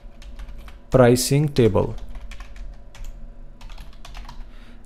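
Fast, light clicks of typing on a computer keyboard patter steadily up close, briefly interrupted by a short spoken phrase before the keystrokes carry on alone.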